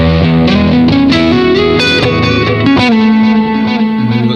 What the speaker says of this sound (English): let's turn on the delay at least and see how it sounds